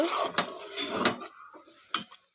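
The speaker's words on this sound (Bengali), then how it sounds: "মাছগুলা ঢেলে এই যে একটু নাড়াচাড়া করব" Fish being stirred in a cooking pot with potatoes gives short scraping and clattering strokes of a utensil against the pot, a few close knocks spread over a couple of seconds.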